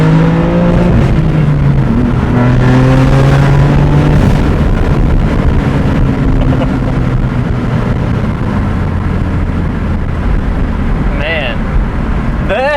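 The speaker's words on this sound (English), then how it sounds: "When you let go of the gas pedal at certain RPMs, it still does, you know, burble a little bit from factory." A BMW F80 M3 with a Valvetronic exhaust, heard from inside while driving: loud engine drone sweeping through the revs, then easing off throttle with burbling from the exhaust, under speech.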